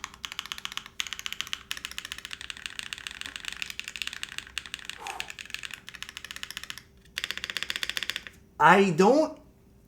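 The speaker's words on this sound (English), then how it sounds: "I think this spacebar is a little bit plasticky sounding." Rapid clacky keystrokes on a Bakeneko mechanical keyboard with a slightly plasticky spacebar, steady and close, with a short pause and a brief burst of tonal noise near the end.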